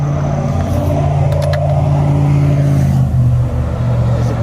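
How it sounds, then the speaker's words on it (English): A loud truck passes on a road beside a hiking trail near a large oak, its steady engine rumble dominating the whole stretch and shifting slightly in pitch partway through, with no talking. "that was a loud truck"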